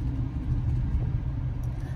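Car traffic passes on a nearby road as a steady, close, low rumble of engines and tires that holds level throughout. No voice is clearly heard.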